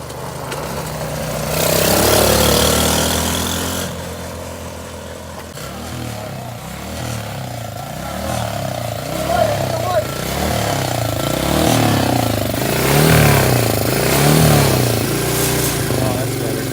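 A rescued quad bike pulled from a trash pile runs on fresh petrol, its engine settling into a steady, close idle with small revs, while several people talk and shout excitedly over it.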